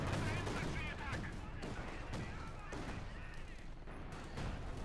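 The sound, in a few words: gunfire in a WWII strategy video game battle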